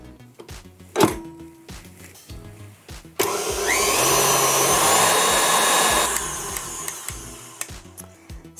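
An electric mixer creams butter for American buttercream icing, a loud steady whirring drone lasting a few seconds after a clunk and some light clatter, then easing down, with no voices.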